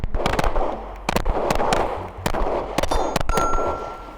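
Shots from a Glock 19 clone pistol fired outdoors: sharp, loud reports in an irregular string, roughly eight or nine over a few seconds, each with a ringing tail and a faint metallic ping near the end.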